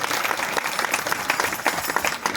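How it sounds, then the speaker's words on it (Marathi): An audience at a village Shivanam Saptah closing ceremony claps loudly and continuously for Mankhedkar Guruji, a dense burst of applause throughout. "त्यांच्याकडे एका जोरदार टाळ्या"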